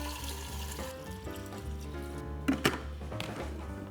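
Water poured into a Pinter home brewing keg, a steady running stream with a couple of brief louder splashes midway, close by and alone.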